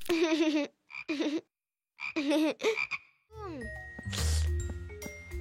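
A cartoon frog gives a close, buzzy croak after a few short spoken phrases, with a bright chime-like jingle ringing alongside it.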